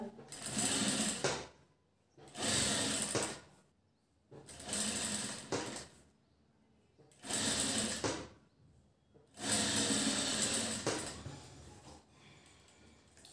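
Sewing machine stitching piping strips onto a princess-cut blouse, running in five loud bursts of rapid mechanical chatter separated by short pauses.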